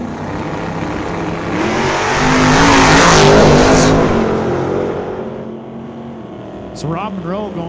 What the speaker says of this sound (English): driving that 68 Dodge Dart, taking on Rob Monroe Sr. in the 31 Model A